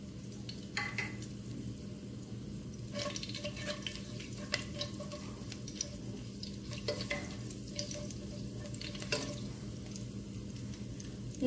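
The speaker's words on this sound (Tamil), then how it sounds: "ஆயில் நல்லா ஹீட் ஆன உடனே ஹோல் கரம் மசாலா போடுறோம்." Whole garam masala frying in hot oil for a chicken curry, a steady close sizzle with scattered crackles and occasional stirring scrapes, no talking.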